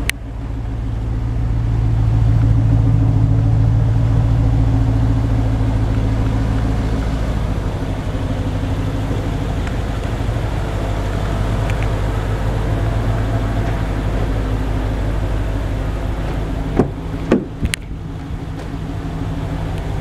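A 2011 BMW X5 50i with a 5.0 twin-turbo V8 running close by, a steady deep hum with a low tonal drone, followed by a few sharp clicks or knocks near the end.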